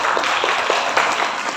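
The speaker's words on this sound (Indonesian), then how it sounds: "Kita berikan tepuk tangan yang meriah untuk Mas Gofur." Brief applause breaks out for a guest speaker at an entrepreneurship training session for people with disabilities, a dense, lively patter of many hands clapping at steady loudness for just over a second and a half.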